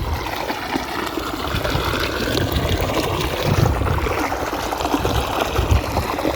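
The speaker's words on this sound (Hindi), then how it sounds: "यहाँ पर पानी कितनी तेज़ बहती है और हमारे खेतों में गिरती है" Water flowing fast and pouring into a village farm field, a steady rushing trickle and splash, close and continuous with low gurgling bursts.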